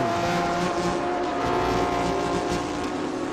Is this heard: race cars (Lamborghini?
yes